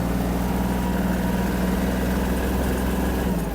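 A Kubota GL-21 Japanese mini tractor engine runs steadily close by at reduced speed during a tight turn, a continuous low diesel drone with an even throb and no speech.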